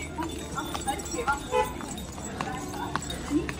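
A horse carries riders at a walk on the Ridge in Shimla, its hooves clip-clopping in a steady, fairly close rhythm over a busy outdoor background, with people talking throughout.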